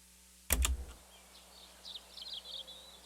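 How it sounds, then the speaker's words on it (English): A slowed-down, pitch-lowered sample of birds chirping, used as a synth-like element in an electronic track, with a short loud thump at the start, followed by soft smeared chirps. "I've just stretched it out so you wouldn't necessarily know it's birds chirping"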